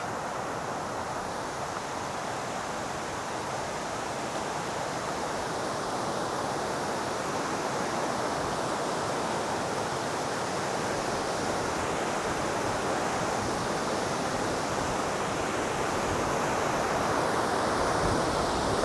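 A waterfall at a site with several falls pours in a constant, broad, even rush of water, steady and unbroken throughout, slightly building toward the end, with no voices.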